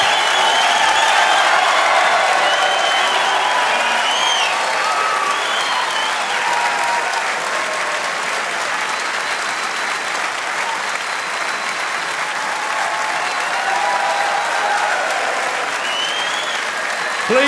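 The Crucible crowd applauds at the 2013 World Snooker Championship final between Ronnie O'Sullivan and Barry Hawkins, a long, even, full-house ovation of dense clapping with scattered whistles and cheers, steady from start to finish.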